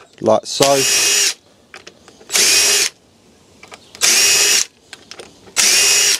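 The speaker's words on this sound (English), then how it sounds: "Now we need to pilot our holes." A power drill bores pilot holes for hinge screws while building a hay shed, four separate bursts of close, loud whining, each about a second long, separated by pauses with a brief spoken phrase at the start.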